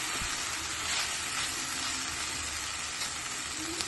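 Broad beans poriyal with coconut being lightly stirred in a frying pan, a soft, steady sizzle with faint scraping touches throughout.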